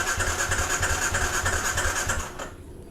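A motorcycle engine cranks repeatedly without catching, a fast rhythmic starter whir and chug that cuts off abruptly near the end, close and loud.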